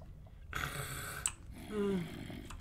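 A low, guttural groan rises and fades over a couple of seconds, with a harsher burst before it: a Minecraft zombie moaning nearby.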